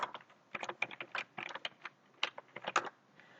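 Rapid key clicks on a computer keyboard while writing ReactJS code, a steady run of close, crisp taps in uneven bursts with short pauses, no voice.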